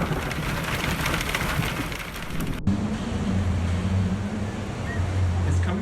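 A storm in Taif drops hail, making a dense, loud hiss of falling ice and rain, with an abrupt cut partway through to a lower rumbling wash of the same downpour.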